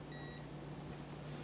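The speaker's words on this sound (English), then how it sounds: "You'll hear a beep there." A single short electronic beep from an electronic system sounds faintly over a low steady hum, then the room goes quiet.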